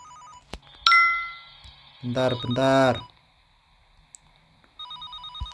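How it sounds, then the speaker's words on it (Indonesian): A game telephone in Gas Station Simulator rings with repeated electronic trills that sit in the open between other game beeps and chimes, while someone speaks briefly over the game sounds. "Kita angkat teleponnya dulu ya, guys."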